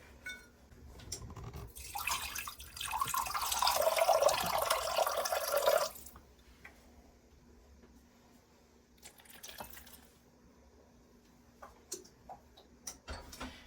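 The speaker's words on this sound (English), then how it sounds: "so let's put the water in" Water poured into a Christmas cake batter, a steady splashing pour lasting about four seconds, followed by quieter kitchen clinks and taps.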